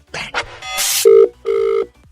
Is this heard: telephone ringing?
yes